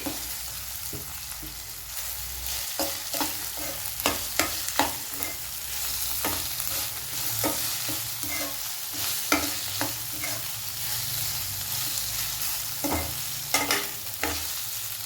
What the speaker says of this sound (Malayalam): ചതച്ച് വെച്ച ഇഞ്ചി, വെളുത്തുള്ളി നമുക്ക് ഇതിൽ ഇട്ട് കൊടുക്കാം.